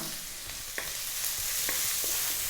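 Onion with toasted garlic and ginger fries in a pan for chicken gravy, a continuous close sizzle punctuated by several soft scraping and tapping stirs, with no one speaking.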